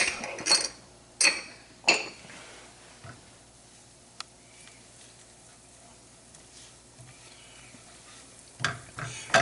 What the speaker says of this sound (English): Just sweating the garlic and the shallots. You can see the butter start to foam.